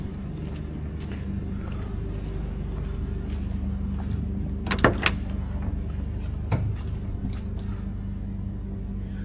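A 1971 Chevelle passenger door unlatches and opens with a couple of sharp clicks and thuds, heard over a steady low engine idle.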